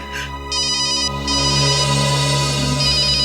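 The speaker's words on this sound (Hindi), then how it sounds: "किसका फोन है?" A phone ringtone plays continuously, a bright repeating electronic melody with a steady low drone underneath, loud and close, with no talking.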